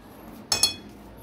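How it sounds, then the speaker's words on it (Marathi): A lid set down on a pot of roasted semolina for rava laddoo gives a single short metallic clink with a faint ringing tail, close by in a quiet kitchen. "आता यावर आपल्याला झाकण ठेवायचं आहे"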